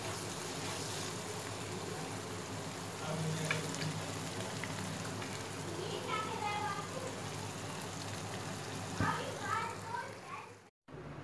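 Egg ghotala frying in a pan, a continuous close sizzle with a few scraping stirs, while someone speaks over it for much of the time.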